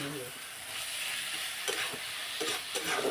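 Onion and garlic paste frying in a pan for a gram-flour curry, giving a steady, hissing sizzle with a few soft stirring bumps near the end.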